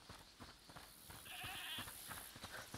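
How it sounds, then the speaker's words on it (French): Goat bleating in the video game A Plague Tale Requiem, a few wavering bleats at moderate distance over soft game ambience and scattered light clatter, no speech. "Écoutez, c'est la chèvre du monsieur?"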